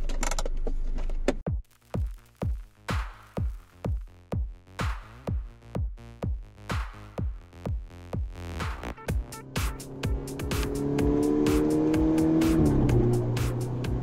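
Golf 6R with over 400 hp pulling away hard, a rapid series of loud rhythmic exhaust pops and crackles giving way to a rising, sustained engine roar under acceleration, close and forceful with no voices.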